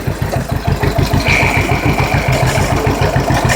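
A tractor engine runs steadily with its PTO engaged to drive the hydraulics, giving a close, loud, rhythmic low chug throughout with a faint whine above it.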